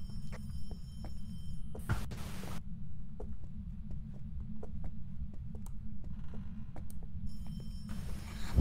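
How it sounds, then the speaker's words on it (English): A telephone rings in another room, with brief bursts of ringing over a steady low rumble and scattered faint clicks. "I hear a phone. I hear a phone."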